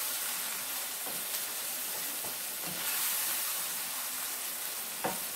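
Jamaican saltfish and vegetables sauté in a pan for ackee and saltfish, hissing with a constant close sizzle and a few light utensil taps while being stirred.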